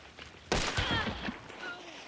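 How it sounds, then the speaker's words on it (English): A flash grenade bursts in the shooter game Hunt: Showdown, a single sharp loud blast followed by a ringing, whistling tail that slowly fades. "I hear a flash go off"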